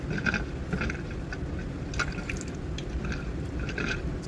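Water runs steadily through a hose set up for an aquarium water change, draining a tank holding an angelfish; a continuous close wash of flowing liquid with faint trickles and drips.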